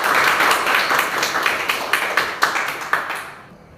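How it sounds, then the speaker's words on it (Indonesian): Students in an Islamic religious-studies classroom clap in a quick, rhythmic round of applause, close and fairly loud, tapering off into silence at the end. "Iya, terima kasih, tepuk tangan."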